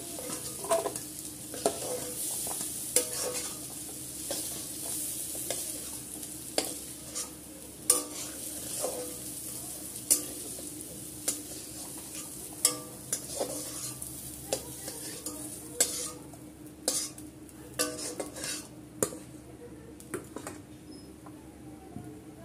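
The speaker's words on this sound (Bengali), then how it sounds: "এখন আমি উচ্ছেটা ভেজে নেবো" Bitter gourd pieces frying in oil in a pan for a gourd and pumpkin curry, a soft steady sizzle broken by repeated scraping and clicking of a stirring spoon, close and alone with no talk.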